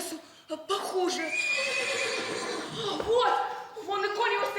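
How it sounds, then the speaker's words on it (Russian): Horse whinny sound effect in a stage performance of the Russian play Ordinary Miracle, a long, wavering neigh with strong harmonics rising over the scene, loud and close, with actors' voices around it. "вон и конь его стоит"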